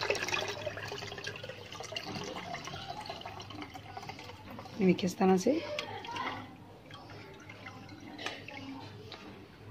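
Strained soaking water, once used to draw sourness out of fruit for a strawberry lemonade, is poured into a jar with a brief splashing gurgle midway, under someone talking throughout.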